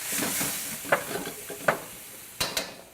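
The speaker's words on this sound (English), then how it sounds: "so let's get that stirred back in there" Beef stir fry with sauce being stirred in a hot pan: a constant sizzle with a few sharp scraping clinks of the utensil against the pan, close and clear.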